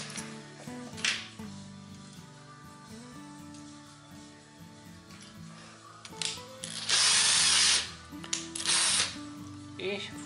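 Cordless drill-driver whirring as it spins a length of wire for a homemade fishing lure, with ratcheting clicks, short bursts and a louder sustained run near the end, heard up close without talk.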